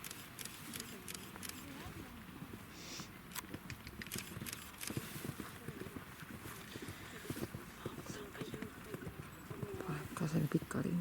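A horse gallops over an eventing cross-country course, with rhythmic hoofbeats thudding steadily and growing louder and closer toward the end, while an announcer talks over the scene.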